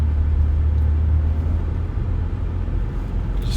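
A school bus passes on a road with a steady low engine rumble and broadband road noise, fairly loud and continuous, with no voices.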